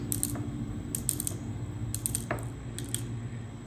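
Sharp, repeated snipping clicks of scissors cutting baked polymer clay, close and crisp, in an irregular rhythm over a low background hum.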